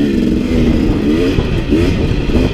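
A 2017 KTM 250 XC dirt bike engine revs loud and close on a trail ride, its buzzing note rising and falling steadily through the whole stretch with no talk.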